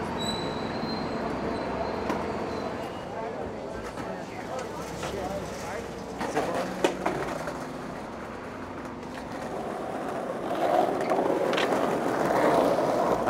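A commuter train of Brazil's CPTM suburban rail network rumbles past at close range, steady wheel and carriage noise with brief squeals and clanks, swelling louder toward the end; speech is mixed faintly beneath the rail noise.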